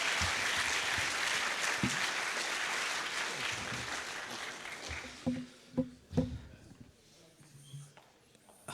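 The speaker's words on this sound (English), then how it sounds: "Please give Connection and all 5 of our finalists a big round of applause" A crowd applauds hackathon finalists at a closing ceremony: thick, sustained clapping for about five seconds, then thinning into a few scattered claps and cheers as voices start to come through.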